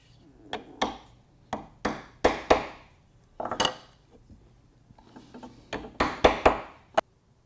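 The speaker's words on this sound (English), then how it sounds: "it looks like I got a little chiseling to do" Wood chiseling at a routed dovetail jig gives a series of sharp, close taps and knocks, irregular and spaced out, some struck in quick pairs, with quiet gaps between.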